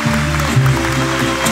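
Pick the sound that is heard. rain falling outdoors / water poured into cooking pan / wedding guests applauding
wedding guests applauding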